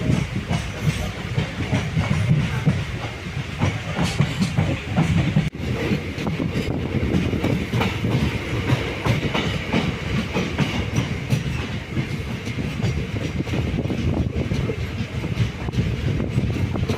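Madurai-Punalur Express running on the tracks, a loud, close, continuous rumble with steady clickety-clack wheel rhythm and a hissing rush of wind, with no talking.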